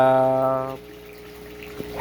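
Fresh water runs into a concrete catfish tank in a steady, close, continuous flowing rush that follows a short stretch of talking.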